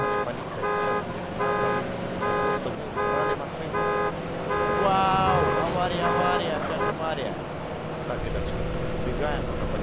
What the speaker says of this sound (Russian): Сигнализацию надо убрать.